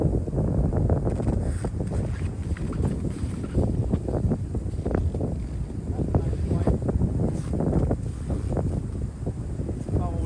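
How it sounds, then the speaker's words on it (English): Strong wind gusts buffet the microphone on an open wooded disc golf course, a loud, continuous rough roar with pulsing bursts throughout. "The wind has kind of picked up since I started."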